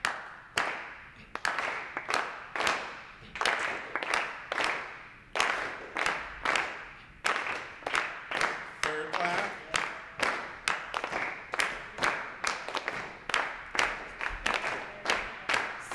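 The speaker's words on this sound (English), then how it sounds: "So we're just going to start with our clap." A group claps together in a slow, steady rhythm, sharp hand claps repeating evenly close by for the whole stretch, with a brief voice partway through.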